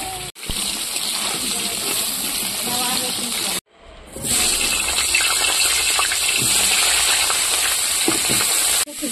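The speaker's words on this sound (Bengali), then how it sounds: "তো আলু আর ফুলকপি গুলো ভেজে নেবো" Potatoes and cauliflower fry in hot oil with a loud, continuous hissing sizzle that cuts out briefly and then surges back, steady and close throughout.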